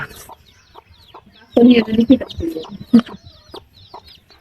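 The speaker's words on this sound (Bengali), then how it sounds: "মুরগির কাছে আসাতে মুরগি আমাকে আক্রমণ করলো ঠক দেওয়ার জন্য" A naked-neck desi hen guarding her chicks lets out a close burst of agitated clucks, followed by scattered softer clucks and sparse chirps.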